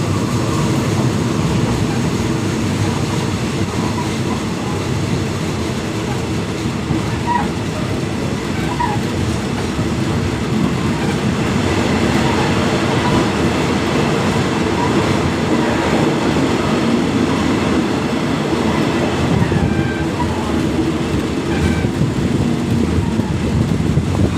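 A train rolls along the railway track in Bangkok on the Hua Lamphong to Bang Sue line behind Ramathibodi Hospital, a steady, loud, close rumble of wheels and cars that holds unbroken throughout, with no voices.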